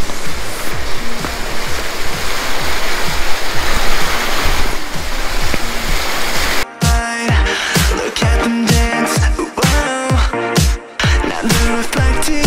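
Rushing water of the Krupa river at the old water mills of Krupa na Vrbasu in Bosnia gives a broad roar under rhythmic music, which then takes over the second half.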